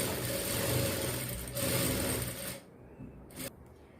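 A sewing machine runs steadily, stitching a double-folded fabric strip on a blouse, a continuous close mechanical whir that stops near the end with a brief final burst.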